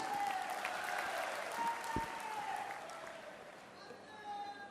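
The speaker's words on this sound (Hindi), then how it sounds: "आप सबकी जोरदार तालियों के बीच" A crowd at a public ceremony in Panna for laying the foundation of primary health centres applauds, a faint, distant, steady clatter with voices talking over it.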